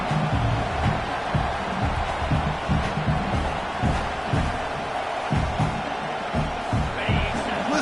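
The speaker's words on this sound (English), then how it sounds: "Listen to the crowd energy here in the early going." Football stadium crowd at a Tech at OU game, a dense steady roar filling the whole clip, loud and continuous with rhythmic low thumps and swells of noise.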